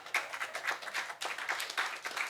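An audience claps steadily at a gathering, dense hand claps swelling and dipping in uneven waves, fairly loud and close, with no talk over it.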